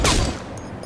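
A brief burst of gunfire from the video game The Saboteur, one sharp loud crack that quickly decays into a rattling tail.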